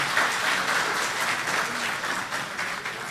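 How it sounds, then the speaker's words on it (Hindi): An audience at a mushaira, an Urdu poetry recital held in Jeddah, gives hearty applause: dense, even clapping that runs without a break for about three seconds with no voices over it. "एक बार ज़ोरदार तालियां"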